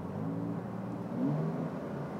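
A Porsche 911 992 Carrera 4 switched into sport mode gives a steady, moderately loud engine drone, with a brief rise in revs in the middle, heard from inside the car.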